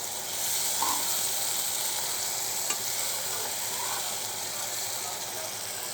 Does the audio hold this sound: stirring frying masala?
yes